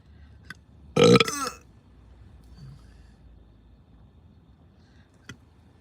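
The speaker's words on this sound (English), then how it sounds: "I'm burping because I'm feeling releases of energy like that's stuck in my throat" A single loud, drawn-out burp from a person rises out of quiet room tone about a second in, with two faint clicks before and after.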